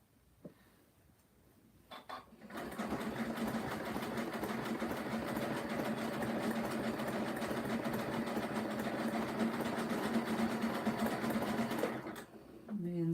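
A sewing machine runs a zigzag stitch on a rope basket in one steady, continuous whir for about ten seconds, close and loud, stopping near the end.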